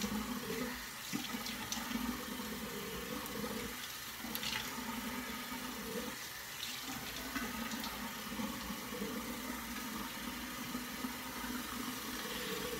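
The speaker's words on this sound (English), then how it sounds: "I'm going to wet my face real good" A bathroom tap runs steadily while someone wets their face before a shave, a soft, continuous hiss and splash close by with no talk.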